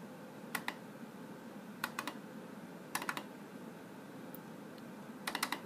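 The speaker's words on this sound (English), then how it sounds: "Double left click." A computer mouse gives paired sharp clicks, several double left clicks spaced a second or so apart, close and crisp over a low room hum, with no voices.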